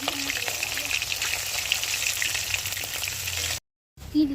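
Ingredients for a rohu fish curry fry in hot oil in a pan, giving a steady, fairly loud sizzle that stops abruptly near the end, followed by a brief clatter.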